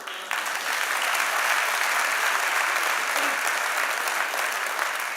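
Sustained applause from a large audience at a motivational event in Chennai, steady and dense from start to finish with no talking over it.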